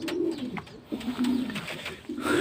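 Pigeons in a loft of birds for sale coo in soft, repeated low rolling calls, close by, with a short pause between bursts.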